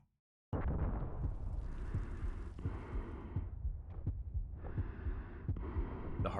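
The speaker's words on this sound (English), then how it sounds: "The heartbeat in the background." Heartbeat sound effect behind a Warhammer 40k Death Korps of Krieg battle scene, a steady, loud, thudding pulse repeating under a dull droning hum with occasional deeper impacts.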